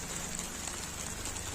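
Heavy rain falls steadily during a trek in the mountains on the Panwali Kantha route, a constant dense hiss close by with no voices.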